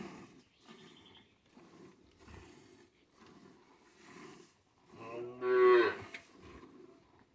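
Dairy cows in a corral at milking time, with quiet shuffling and low activity, then one loud, close, drawn-out moo near the end.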